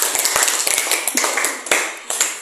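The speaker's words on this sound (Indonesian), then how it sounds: "Tepuk tangan dulu untuk kelompok 2." Classroom audience clapping for a student group during a physics lesson on work and power, a short burst of scattered, fairly close hand claps with uneven rhythm.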